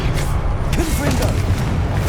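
A Confringo spell fires off in Hogwarts Legacy, a booming explosive blast that sits in dense, continuous game noise with short rising whooshes partway through.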